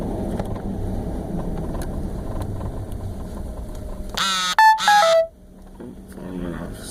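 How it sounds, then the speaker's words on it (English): A phone rings inside a 2004–2009 Ford F-150 truck, a short burst of bright electronic tones cutting over the steady cabin and engine hum, then fading back to idle noise. "Phone went off."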